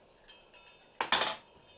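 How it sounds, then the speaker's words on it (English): A dog eats from a metal bowl in a quiet room, giving a few soft clinks and then two louder close clunks of kibble against metal. "That's the dog eating out of its dog bowl."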